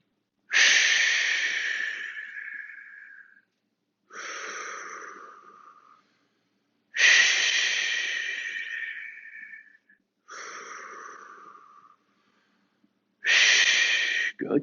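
Strong, rhythmic breathing during a fitness class exercise: five loud, airy exhale-inhale bursts about three seconds apart, close to the microphone, with silence between them.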